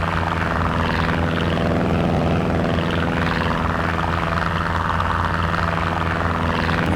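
A de Havilland Dragon Rapide DH-89 twin propeller biplane in Microsoft Flight Simulator drones steadily throughout, its loud, continuous engine hum and prop buzz holding an even, unbroken tone from start to finish.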